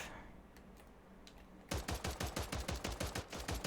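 Rapid automatic gunfire in Call of Duty Warzone, a fast burst of evenly spaced shots starting abruptly after a quieter stretch of faint clicks, loud and close.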